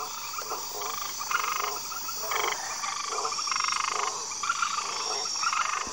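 Pouched tree frogs croak in steady pulsing bursts over a constant high insect hum, an outdoor chorus with no voices.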